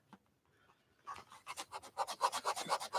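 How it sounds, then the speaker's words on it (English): Close, rhythmic rasping strokes as a stamp is rubbed back and forth against a gritty sanding block, starting faint and growing louder. "Kind of erasing it on a sanding block."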